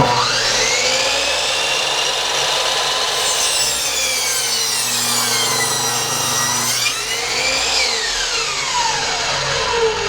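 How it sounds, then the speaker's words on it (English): A power tool cutting a bevel along the bottom edge of a cedar plank, giving a loud, continuous whining, rasping cut whose pitch rises and falls over about ten seconds, with no voices. "we're putting a bevel on the bottom of the board"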